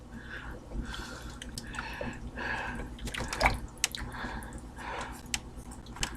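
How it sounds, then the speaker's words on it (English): A cornstarch sauce mixture for sesame honey chicken is whisked in a bowl, giving soft, wet, squishy swishing strokes in a steady rhythm, fairly close and moderately quiet, with no talking. "now let's go ahead and whisk our cornstarch mixture all in"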